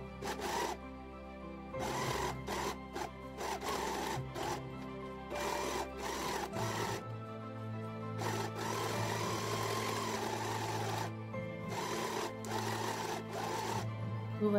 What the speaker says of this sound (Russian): Сверху прикалываем булавками и соединяем на верлоке.